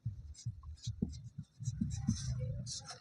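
A pen scratches on paper as a Class 10 maths problem is worked out, giving a steady run of close scraping and rubbing strokes with brief gaps between them. No speech is heard.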